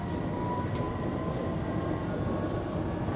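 A London Underground tube train runs with a continuous loud rumble and roar, steady and enveloping throughout, with a faint high whine on top and no speech.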